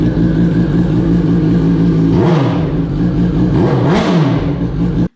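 A 2004 Yamaha R1 sport bike, freshly rebuilt after a wreck, idles loud and close, then is revved twice, each blip rising sharply and falling back, before cutting off abruptly.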